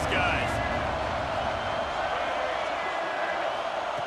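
Stadium crowd in College Football 26 during a game against Arkansas, a broad continuous roar from a large audience with a brief cheer near the start, with commentary running over it.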